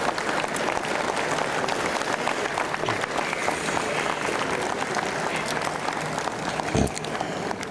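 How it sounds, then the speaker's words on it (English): A ceremony crowd claps steadily for honorees on Heroes Day, a broad even patter of many hands that runs unbroken throughout at moderate loudness, with a faint voice or two mixed in. "A round of applause for all emerging pioneers."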